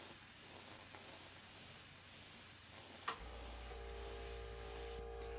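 An airbrush sprays paint onto an aluminum panel with a steady, soft, close hiss. A single click sounds midway, and a low hum joins the hiss afterward.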